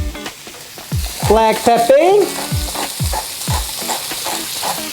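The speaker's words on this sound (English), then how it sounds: "All right, all of our beef in a hot pan." Uniform chunks of unseasoned flank steak sear in a hot pan with a little neutral oil, crackling loudly and evenly as they are stirred, with a short spoken remark over the sizzle.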